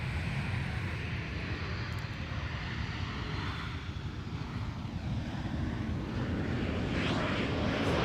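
Airbus A340 airliner arriving at Amsterdam Schiphol, a steady, distant, rumbling engine roar with wind noise, fairly faint and continuous throughout.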